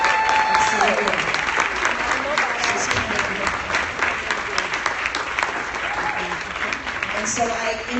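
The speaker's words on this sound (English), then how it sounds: "I want you to really applaud Miss Tiffany Edwards." An audience at a women's awards ceremony applauds loudly and steadily for several seconds, with crowd noise, cheers and a few voices mixed into the dense clapping.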